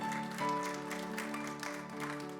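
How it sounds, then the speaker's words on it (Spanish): A congregation applauds during a Spanish-language Christian church service, a brief, moderately faint burst of clapping layered over sustained musical tones. "Denles aplauso fuerte a Cristo porque Él es bueno."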